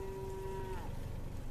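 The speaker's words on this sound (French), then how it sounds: "ou bien encore des troupeaux de vaches" A herd of cattle on a road in northern Greece, with one loud, close cow moo holding a long steady tone before fading, over constant background rumble.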